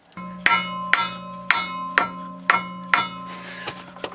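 A transmission seal is tapped into place with a hammer in six evenly spaced, ringing metallic strikes close by, followed by a few quieter taps and scraping.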